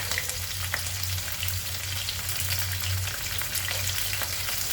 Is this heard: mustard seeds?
yes